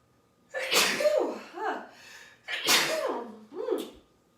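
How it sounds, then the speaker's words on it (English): Two loud sneezes close by, each with a sharp burst followed by a short voiced gasp, spaced about two seconds apart. "I need to sneeze."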